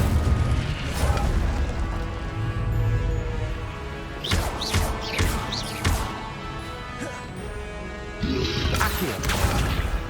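An Incendio fire spell cast in Hogwarts Legacy bursts with whooshing flame and crashing impacts, several sharp hits punctuating a loud, dense rush of magical combat.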